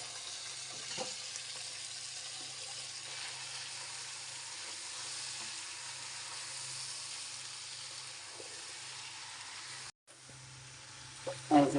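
Duck and onion frying in a pan, a steady, soft sizzle that holds even throughout, ending with a short clatter.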